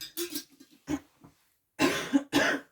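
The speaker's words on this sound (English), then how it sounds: "I'm really sorry, I hope I don't cough much." A person coughs several times in short bursts with pauses between, close and moderately loud, a pair of harsher coughs near the end, in a quiet room during a cash envelope unstuffing session.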